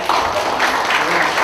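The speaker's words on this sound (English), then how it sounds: "Can we please have a round of applause for him?" Audience at a summer intern presentation on plant pathology and entomology applauding, steady dense clapping filling the room, moderately loud and continuous.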